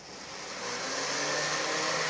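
Blender running on a very low setting to whisk egg for hollandaise, a steady whirring motor hum that rises slightly in the first moment and then holds even and close.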